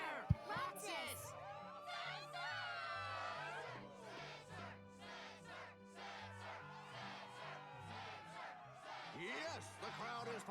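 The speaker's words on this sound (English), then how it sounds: "Yes, the crowd is fired up." A game crowd in Kingdom Hearts II cheers and shouts at a struggle tournament, rising whoops and battle cries layered over background music, moderately loud and continuous.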